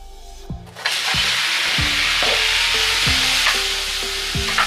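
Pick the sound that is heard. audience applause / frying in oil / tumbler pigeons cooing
frying in oil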